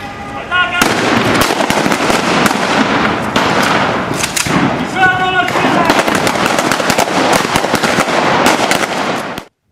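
Rapid bursts of gunfire crackle continuously with sharp bangs and blasts mixed in during a territorial defense training exercise in Sumy region, loud and dense throughout, with a brief lull near the start.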